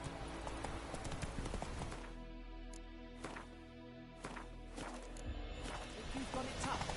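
Roach, a horse in The Witcher 3, clip-clopping along in a steady rhythmic run of hoof beats, with game ambience and music underneath.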